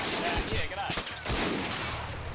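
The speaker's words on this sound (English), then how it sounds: "HE gun firing, Bren gun firing." An HE gun and a Bren gun firing in a World War II video game battle at a bridge crossing in Greece, with ANZAC forces defending: a dense, continuous din of shots and bangs, loud and steady.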